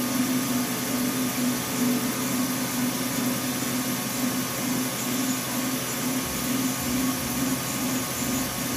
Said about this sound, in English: The lathe is fairly quiet for a lathe